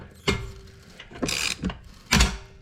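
A 12 mm nut on a Nissan 300ZX loosened with a socket and wrench, giving three separate close ratcheting clicks and metallic scrapes with short quiet gaps between them.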